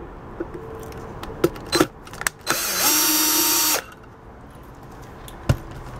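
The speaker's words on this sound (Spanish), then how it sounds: "Y aquí vamos a quitar este tornillo que está aquí enfrente." A screw comes out of the front of a pressure cooker: scattered close clicks and taps, then about a second of steady whirring from a powered driver, followed by a few more light knocks.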